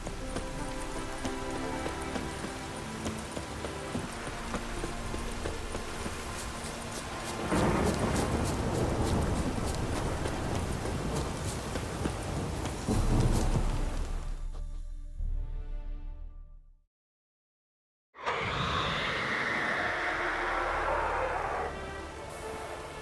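Steady heavy rain with rolling thunder falls in The Witcher 3: Wild Hunt video game, and horse hooves clop through the first half. The sound cuts to silence for about a second near the end before the downpour returns.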